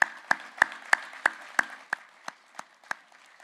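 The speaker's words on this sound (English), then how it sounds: "I'm never quite sure whether tributes deserve a round of applause, but I feel today they really do" At a memorial gathering, about ten sharp, separate claps ring out at a steady beat, spaced roughly a third of a second apart, from only a few hands, and they grow softer toward the end.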